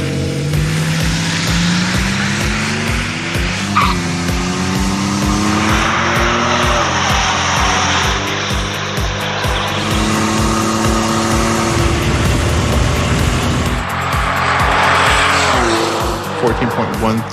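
Hot rod drag car making a shakedown pass at a drag strip, its loud engine roaring and shifting through rising harmonic sweeps with tire noise, continuous and close, with voices talking over it.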